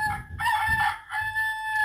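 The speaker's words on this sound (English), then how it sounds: "to hear what a cockerel sounds like" A cockerel crows a full cock-a-doodle-doo, loud and close, with a second crow starting right after it, alone with no talk over it.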